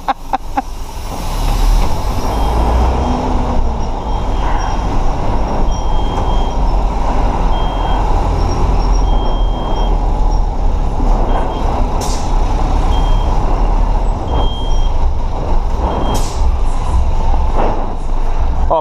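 A city bus reverses while parallel parking, its loud engine rumbling steadily with an air brake hiss and repeated reversing beeps throughout.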